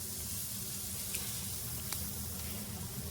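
Garlic bread toasting in a pan with steady sizzling and frying, broken by a couple of faint clicks as the slices are turned over, with no voices.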